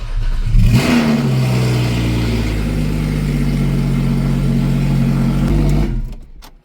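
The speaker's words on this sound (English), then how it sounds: "and let's start the car." A Porsche 987 with a catless header fires up loud and close, with a sharp start burst followed by sustained revving and a strong low engine drone that cuts off abruptly near the end.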